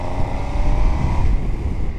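A 2019 MV Agusta Dragster 800 RR, a 140-horsepower triple-cylinder motorcycle in normal engine mode, roars steadily up close, a loud continuous growl with a brief rising note before settling, no talk over it.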